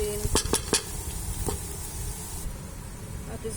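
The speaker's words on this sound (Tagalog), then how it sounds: "Ginisa ko lang muna yung sibuyas, saka yung" Onions and raisins sautéing in a pan for Filipino Bucari rice, with a few sharp utensil clinks against the pan early on, then a steady soft sizzle and stirring under faint background noise.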